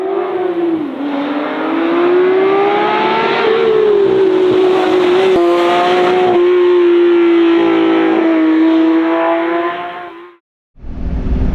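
A Porsche 911 Speedster of the 991 generation drives with a loud, steady engine note rising and falling through the gears, heard from inside the car for about ten seconds before cutting off abruptly.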